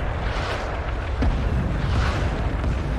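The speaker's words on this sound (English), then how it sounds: "As soon as the sky's done exploding." Explosions burst across the sky in the video game Rising Storm 2, a continuous loud rumbling barrage of deep booms that blend into one another without a break.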